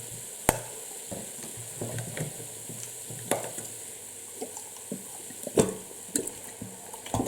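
Peeled tomato being stirred into a frying pan with spices while cooking red beans, giving a soft, steady sizzle broken by a few sharp scraping knocks of the utensil against the pan.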